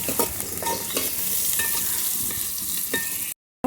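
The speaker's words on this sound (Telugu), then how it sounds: "ఇప్పుడు ఈ జీడిపప్పును కూడా ఒకసారి బాగా కలుపుకోవాలి" Onions and raw cashews fry in a pan with a constant close sizzle, broken by several scraping stirs of a spoon against the pan, then a short silence at the end.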